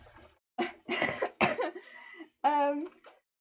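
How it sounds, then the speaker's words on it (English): Several harsh coughs in quick succession, close and loud, followed by a throaty, voiced cough or throat-clearing sound. "the reason I'm coughing is not because of anything sinister."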